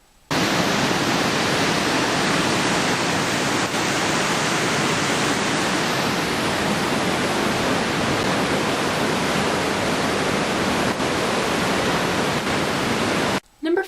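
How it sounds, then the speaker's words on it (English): Waterfall heard up close as a loud, unbroken roar of rushing water, steady and broadband throughout with no voices, cutting off sharply just before the end. "Number 4, and this waterfall."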